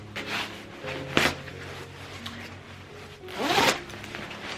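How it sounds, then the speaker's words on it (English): Zipper on a light green Zara puffer jacket being run, with a couple of quick rasping zips, one at about the one-second mark and a longer one near the end, close and fairly clear. "It's got a zip"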